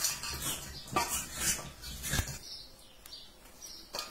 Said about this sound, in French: je mélange tout ça bien dans le bol, pas à côté